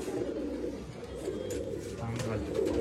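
Pigeons for sale in Bangalore, including a male dubas bird, cooing in low, repeated murmurs up close, with several birds overlapping and a voice talking faintly in the background.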